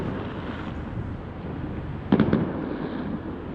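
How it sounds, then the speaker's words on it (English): Fireworks bursting far off on bonfire night, a brief cluster of muffled pops near the middle over steady wind and outdoor background noise. "I've just realised how small the fireworks look on camera. They look like tiny little explosions on the horizon."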